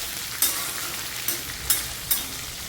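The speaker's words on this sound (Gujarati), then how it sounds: "હવે આપણે મિક્સ કરી લઈશું, થોડું ચલાવી લઈશું" Okra curry for a Gujarati thali is stirred in a hot pan, with steady close sizzling and frying broken by a few sharp scrapes of the spoon.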